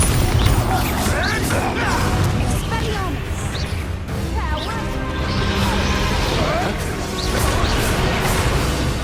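Bombarda blasting spells explode in the wizarding game Hogwarts Legacy, a string of loud crashing bursts and smashes with whooshing swishes between them over a continuous noisy battle backdrop.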